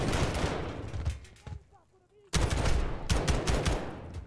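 Gunfire in the Call of Duty Modern Warfare video game: dense, loud bursts of automatic fire that stop for a moment of near quiet, then resume in heavy rapid volleys.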